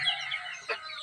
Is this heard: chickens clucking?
yes